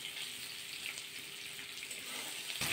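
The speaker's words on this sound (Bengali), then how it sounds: "এবার পনিরগুলো ভাজা করে নেব।" Pieces of paneer frying in a pan give a steady, close sizzle of hot oil throughout, with no talking.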